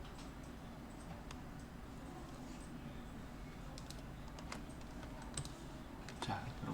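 Computer keyboard keys pressed while working in Illustrator, including Alt and Shift, giving scattered light clicks and taps over a steady low background hum, close but soft, with no speech.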